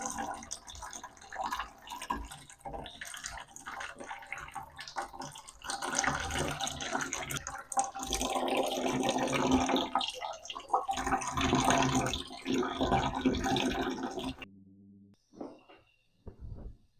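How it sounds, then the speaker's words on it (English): Water pouring and trickling steadily as roughly a fifth of a planted aquarium is drained during a water change, a continuous close wash of sound that drops away into quiet near the end. "So I'm going to do a little bit of a water change on this tank as well"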